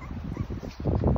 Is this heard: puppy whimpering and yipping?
yes